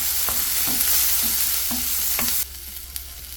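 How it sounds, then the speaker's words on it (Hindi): Vegetables sautéing in olive oil with a little pink salt in a pan, a steady close sizzle with several soft stirring scrapes of a spoon against the pan. "अब एक पैन में थोड़ी सी ऑलिव ऑयल मैंने डाल ली। इन सबको सौटे कर लूँगी।"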